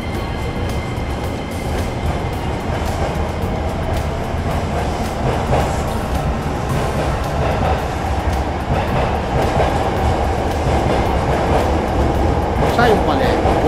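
A Hankyu 9300 series train running out of service pulls away from the platform, its motor hum and wheel clatter building steadily over several seconds, close by, with some voices in the background.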